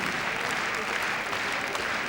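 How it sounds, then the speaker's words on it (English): Audience applause at a large international agility final at Crufts dog show, greeting an eliminated handler; a steady, dense wash of clapping fills the hall throughout, with commentary over it. "And he's getting quite a nice clap round as well."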